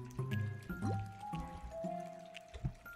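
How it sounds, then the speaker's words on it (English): Wet, squelchy squishing of mushroom creatures in the video game Rakuen, a few soft gooey bursts with liquid dripping tones over game music. "squish them mushrooms"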